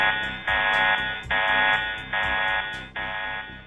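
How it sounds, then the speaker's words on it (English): Alarm sounding at the VLT telescope console: a loud electronic buzzer in four long, evenly spaced blasts, each decaying slightly, with short gaps between them. "An alarm at the VLT console indicates to the astronomers that the activation of the rapid response mode has been requested"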